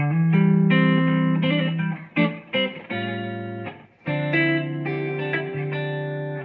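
Soul-style electric guitar chords, including a passing chord, played in a short progression, several strums ringing out with brief gaps between them, clean and close.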